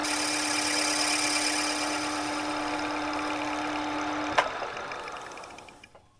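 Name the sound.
lathe turning a pattern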